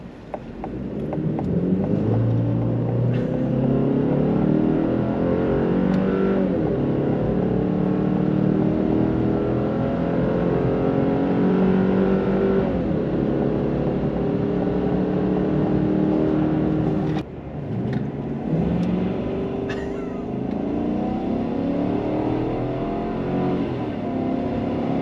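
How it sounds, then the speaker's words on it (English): Chevy Silverado pickups, one with a 2.7 four-cylinder and one with a 5.3 V8, accelerate from about 3 to 60 mph while towing a trailer. A steady loud engine drone climbs through gear shifts, with a brief dip partway, under wind noise. "see which one accelerated faster from about 3 miles an hour all the way up to 60"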